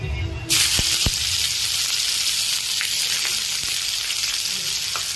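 Onions drop into hot oil with bay leaves for alu matar sabji, bursting into a loud, steady sizzle and crackle that holds close and continuous with a few sharp pops.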